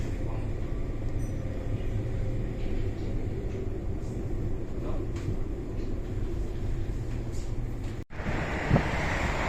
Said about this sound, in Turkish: Tren hareket etti.